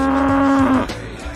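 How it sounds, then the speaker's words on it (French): A cow gives one long, loud moo that holds steady for most of a second, then trails off into quieter outdoor background noise. "le son de la vache"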